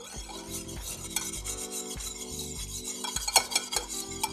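Batter of vegan egg substitute thinned with a little grapeseed oil is whisked in a bowl, giving a steady rhythmic scraping and tapping of the whisk, close and moderately loud, with no voices.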